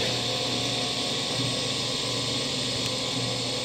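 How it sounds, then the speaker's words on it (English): A DTEnvironmental 840 Enviro-Drum compost turner from 2011 runs its in-feed auger, giving a steady, loud mechanical whir and hiss that holds evenly throughout with no pauses. "in-feed auger is feeding into the end spot"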